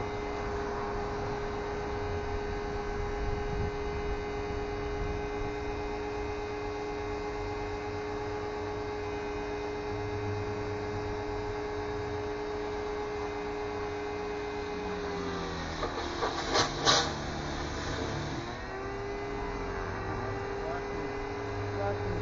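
A small 1600 psi electric pressure washer drones with a steady tonal motor hum while rinsing an aquarium. Its pitch dips and surges briefly near the end as the trigger is released and pressed again.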